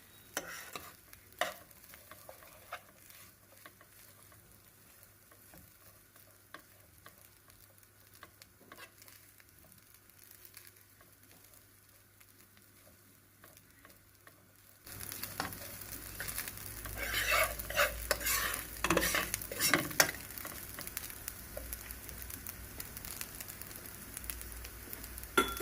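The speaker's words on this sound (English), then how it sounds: "give everything in the pot a good mix" Jamaican-style lobster fried rice gets mixed in a pot, quiet at first with faint spoon scrapes, then a louder stretch of sizzling and busy stirring in the second half.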